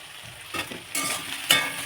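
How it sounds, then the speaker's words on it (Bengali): Potato pieces and onions fry in oil with bay leaf, giving short surges of sizzle as they are stirred. The sound is close and loud, with no voices. "আলুর সঙ্গে পেঁয়াজটা ভাজা হয়ে যাবে একবারে"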